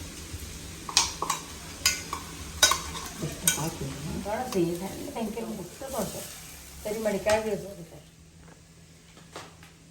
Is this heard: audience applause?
no